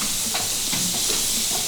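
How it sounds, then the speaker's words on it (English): Meat sears in a hot pan for taco filling, giving a steady, loud broadband sizzle and hiss that runs unbroken throughout, with faint clatter and no talk. "Sear it real good."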